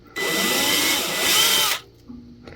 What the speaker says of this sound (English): This is the 1/8 inch drill bit.